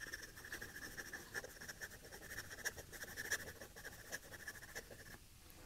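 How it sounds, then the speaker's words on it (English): Fast scratchy scribbling of a PenBBS 495 fountain pen nib on paper, close and faint, with quick irregular strokes running continuously before stopping near the end. "let's do a little bit of speed writing with the Fast Speed Ink Test Scribble here. Doing this in real time."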